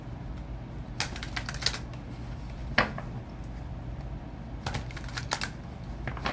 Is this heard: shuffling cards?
yes